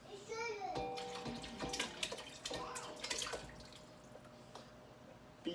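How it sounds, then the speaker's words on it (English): A full jar of tomatoes is poured into a pot, making wet glugging and splashing sounds that are strongest early and then taper into softer sloshes, with faint voices in the background. "we're gonna pour the full jar of tomatoes"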